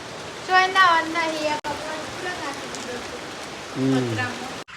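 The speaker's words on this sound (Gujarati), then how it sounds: "બહાર તો ફૂલ વરસાદ ચાલુ છે મસ્ત આવું છે ફરતી વરસાદમાં" Heavy rain pours steadily outdoors, a continuous broadband hiss running beneath a person talking close by for most of the stretch.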